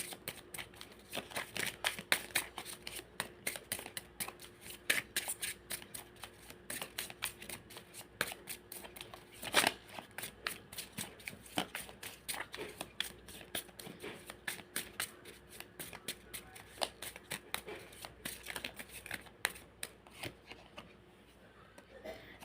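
Tarot cards are shuffled continuously in close, quiet detail, a dense rapid patter of riffling card edges with a few sharper snaps, running alone without talk.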